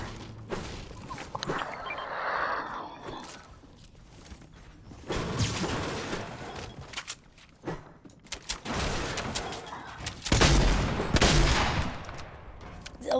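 Shotgun fire in a video game comes as scattered booming blasts and clattering bursts of varying loudness amid game noise across the span, without clear rhythm.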